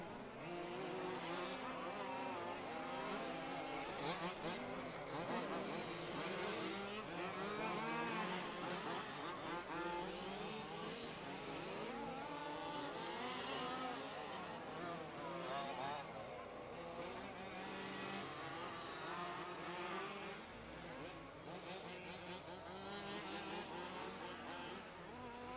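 Large-scale off-road RC cars race at the EFRA LS Offroad Euros, a continuous loud, dense engine drone with overlapping whines and crowd noise throughout, while a commentator talks over it.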